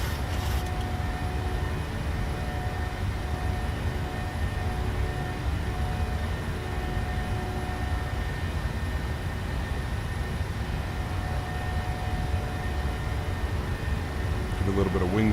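A PMDG 737-800 airliner in Microsoft Flight Simulator, operated as a Ryanair flight, makes a steady jet engine drone with a sustained tonal hum through the climb. A voice talks over it.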